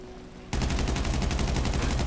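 Loud sustained automatic fire from an AK-type rifle in the GTA role-play game, a rapid even burst of shots starting abruptly after a quiet half second and continuing to the end.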